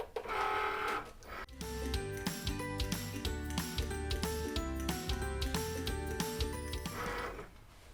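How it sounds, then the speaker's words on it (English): A Cricut cutting machine slices a heat transfer vinyl layer on a mat, making a steady close whir of shifting pitched stepper-motor tones with rapid clicks and carriage movements, starting after a brief quiet lead-in and running alone. "we'll just load this mat and cut out the vinyl layer"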